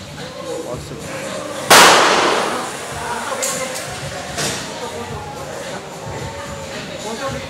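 A single sharp pistol shot cracks out loudly at an outdoor shooting range in Phuket, followed by a few fainter distant pops, with people talking in the background.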